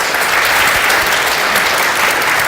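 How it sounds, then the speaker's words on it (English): An audience applauds as design panelists are welcomed at a conference panel, giving dense, steady clapping from a sizable crowd that fills the room evenly and holds at full strength throughout. "Please go ahead and give us a welcome of applause for our panelists today"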